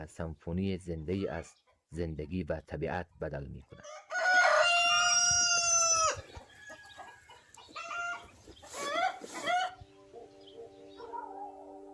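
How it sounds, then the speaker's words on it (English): A rooster in an Afghan village crows loudly at dawn in one long drawn-out call, followed by clucking and softer calls, with a voice talking before it. "the crowing of a rooster announcing the start of a new day"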